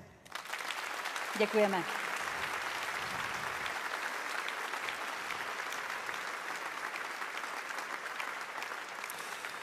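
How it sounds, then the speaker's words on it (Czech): An audience at an awards gala claps in honour of theatres, with sustained applause that continues evenly for several seconds after a brief spoken thank-you near the start. "ještě jednou potlesk"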